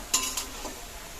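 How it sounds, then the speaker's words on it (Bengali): Cabbage stirred in a hot pan during a home cooking session, a spatula scraping and pushing it through faint sizzling oil in a few brief strokes, close and quiet. "দিয়ে নাড়াচাড়া করে কষিয়ে নেব"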